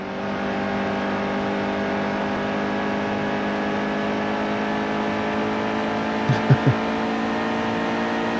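A race car engine drones steadily at high revs through a race, a constant loud whine with a few brief thumps near the end and no talk.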